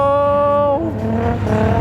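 A car drifting at a motorsport track event, a strong steady engine tone holding then dropping as the car slides and revs back up, with tire noise close by and no one talking.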